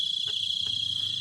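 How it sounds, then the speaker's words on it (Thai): Night crickets trill continuously in southern Laos, a bright, even high-pitched chirring that fills the moment, with two brief soft knocks or clicks underneath and no voices. "บรรยากาศยามค่ำคืนทุกคนมีแต่เสียงจิ้งหรีดเด้อ"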